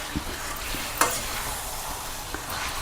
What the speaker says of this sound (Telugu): మటన్ వేసేస్తాం కదా ఒకసారి అడిక్కి పైకి శుభ్రంగా కలిపేసుకోండి